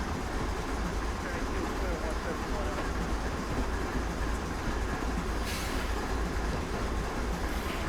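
A train rolls past in the Train Simulator game's Feather River Canyon route, making a continuous, loud rumble of wheels and rail noise that holds steady throughout.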